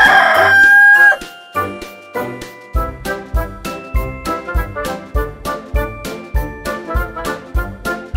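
A rooster crows once, loud and close, and then a bouncy children's tune with a steady beat and jingling bells plays on alone.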